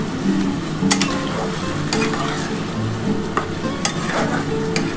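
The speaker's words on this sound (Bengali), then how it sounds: "এবার আমি কিন্তু মশলার জলটা দিয়ে দিচ্ছি।" Spiced water tipped into a hot pan for a rohu fish curry with potato and cauliflower, giving a steady close sizzle with bubbling and a few sharp clinks of utensils, no voices.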